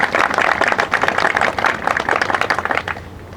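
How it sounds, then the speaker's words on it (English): A press conference audience gives the mayor a round of applause at a groundbreaking event, many hands clapping in a full, even burst that holds steady for several seconds before easing off, with no speech over it. "let's give him a big round of applause"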